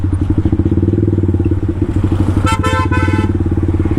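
A Yamaha MT-15 motorcycle putters close by with a steady low engine thump, and a brief horn-like tone cuts in near the end as the bike is brought to a stop.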